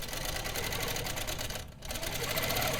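A sewing machine stitches a quilt with a fast, steady mechanical chatter, close and continuous, briefly slowing and pausing before running on again.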